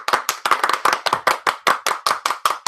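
A group of people claps their hands together in a steady, loud rhythm of crisp claps during a livestream, with no talking.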